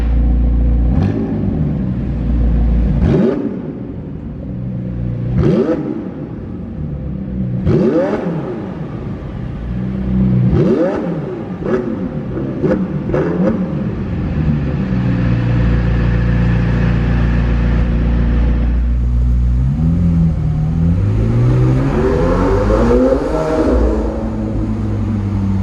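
McLaren 720S Mansory sports car revving repeatedly by a windy harbour, sharp loud blips rising and falling in a series, then a longer sustained rev building toward the end.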